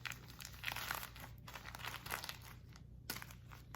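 A fabric DIY bean bag's tail being folded over, giving close, soft crinkling and rustling handling noises that keep going for several seconds, with one sharper rustle near the end and no voice.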